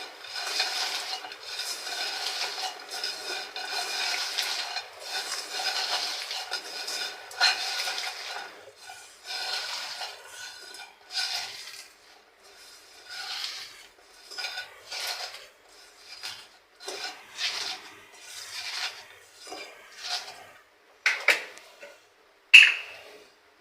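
Pieces of hilsa fish are worked by hand with turmeric and whole cumin, giving close, soft squelching and rubbing with occasional light clicks against a bowl, in irregular bursts with no talking.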